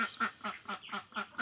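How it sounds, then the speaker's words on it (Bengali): Native ducks on a rural duck farm quack in a steady run of about six loud, nasal calls evenly spaced, close by with no talking. "আজ আমি আপনাদেরকে হাঁস দেখাবো, দেশি হাঁস।"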